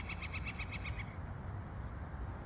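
Morning bird calls from a roof: a rapid run of about eight evenly spaced, clear repeated notes that stop after about a second, leaving only a low background hiss.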